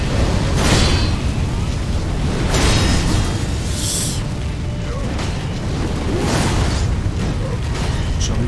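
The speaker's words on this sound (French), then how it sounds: "Tu vas te calmer avec ton canon là?" Cannon fire in the video game Sekiro: Shadows Die Twice, a series of heavy booming blasts over a constant loud rumbling game soundscape, with several bursts spaced a second or two apart.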